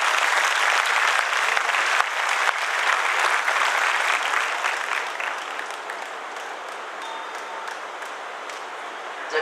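An audience at a Hindi kavi sammelan poetry gathering in Jind breaks into loud applause that holds steady, then gradually thins and fades over the final seconds, with no speech on top.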